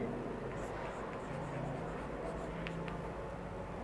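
A pen scratches out a short point label on paper during a sixth-class maths exercise, with faint quick strokes, low and close over a quiet room hum.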